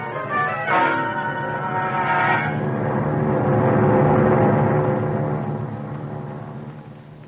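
A large church-style bell rings out loud and resonant, swelling with overlapping tolls that hold and then slowly fade, with no voices over it.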